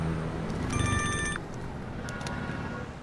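A telephone bell rings in a short burst of electronic trills, sounding clearly over a busy street-market background of crowd murmur and traffic before the ringing stops.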